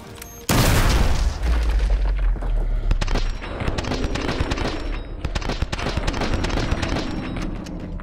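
C4 charges detonating in the Modern Warfare 2 Remastered campaign: a massive close boom opens, followed by sustained rumbling and a steady stream of crackling gunfire in a loud battle scene.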